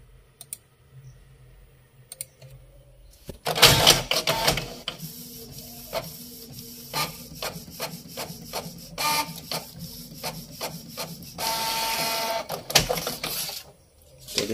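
A normal desktop printer prints a bank passbook page at a service centre: a brief mechanical whir starts it, then a steady run of rapid clicking and print-head buzzing with a louder sustained whine near the end, no voices.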